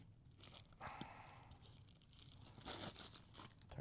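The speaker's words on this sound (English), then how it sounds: "I could probably take them out of the plastic bag because these are brand new ones." A plastic bag holding new blue-light-blocking metal-framed glasses is torn and crinkled open, giving close, brief crackling bursts and a sharper rip near the end, with no talking.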